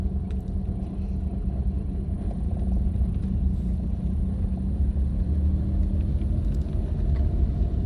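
Car engine idling and pulling away at low revs as the clutch is released during a beginner's driving lesson, a steady low rumble heard from inside the cabin with no talk over it.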